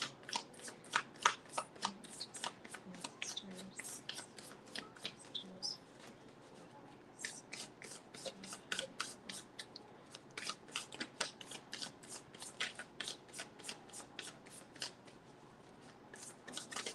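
Tarot cards being shuffled close up, a long run of quick crisp riffles and flicks with short pauses between bursts.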